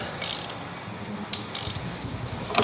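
A ratchet tightens a nut onto a bolt while a workbench is being built, giving a few short bursts of quick, close ratcheting clicks separated by pauses, with light handling noise between them.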